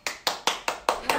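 Five single hand claps spaced evenly at a brisk steady rhythm, each sharp and close, with nothing else audible between them.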